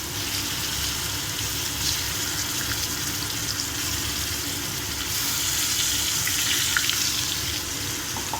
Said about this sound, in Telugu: కడాయిలో వేసేసుకుందామండి. ఆయిల్ కాగిపోయింది. ఇదంతా ఇందులోనే వేసేసుకుందాము.